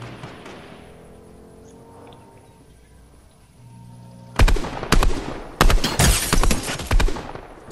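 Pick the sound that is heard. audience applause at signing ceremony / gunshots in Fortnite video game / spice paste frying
gunshots in Fortnite video game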